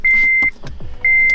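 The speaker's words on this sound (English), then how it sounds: "Turning on the systems in my car" A car's electrical systems powering on after a blown fuse for the 12-volt socket was replaced: two long steady electronic beeps separated by a short burst of relay clicks and whirring, loud and close.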